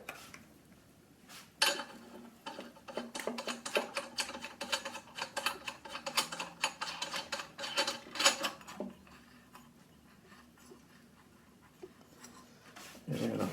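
Metal parts of a floor lamp being tightened by hand during a switch repair: a dense burst of small clicks, ratcheting and rattling taps in the middle, quiet and close, with softer handling before and after.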